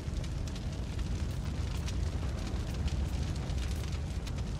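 A steady, loud roar of fire burning in the game Journey of Meatsack, a dense crackling rush with faint pops that holds level throughout and has no voices over it.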